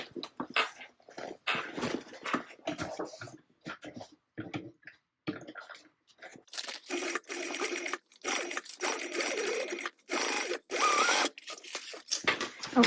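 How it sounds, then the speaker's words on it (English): A sewing machine stitches a seam along the edge of a fabric sling, its whirring in stop-start bursts of varying length, with brief pauses between runs. "going to sew this in place with our seams turned in, or raw edges turned in, right across the edge at 1/8 of an inch seam allowance"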